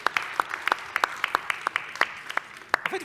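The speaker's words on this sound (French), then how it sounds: "on les applaudit, ça va les faire venir" Scattered audience applause at a French game show, a handful of sharp, separate claps in an uneven rhythm, fairly close and distinct against a quiet background.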